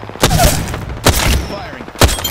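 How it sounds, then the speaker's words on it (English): Apex Legends gunfire crackles in three sharp, loud bursts about a second apart, each a rapid volley over a busy game soundscape with faint radio-style chatter. "Sounds like firing."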